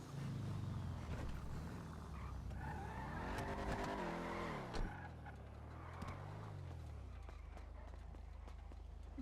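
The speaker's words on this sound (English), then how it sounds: "My car. Dominator." A Dominator GTX muscle car driven in GTA V roleplay, its engine note rising and falling through gear changes, with brief tyre skids and a bump, steady and close throughout.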